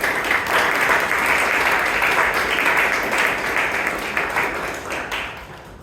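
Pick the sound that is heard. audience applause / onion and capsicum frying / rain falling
audience applause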